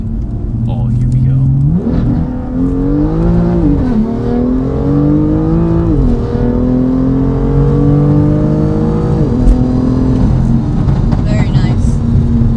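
A BMW M2 on KW coilovers pulls hard at full throttle on a bumpy road, the engine note climbing loudly through several gears with clear dips at each shift, heard from inside the car.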